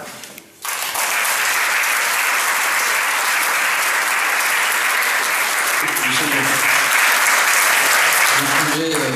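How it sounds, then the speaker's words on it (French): An audience at a civic evening in Saint-Chamas applauds the mayor; after a brief quiet moment, loud, sustained clapping rises abruptly and holds steadily, with voices speaking faintly beneath it toward the end. "Vous pouvez l'applaudir"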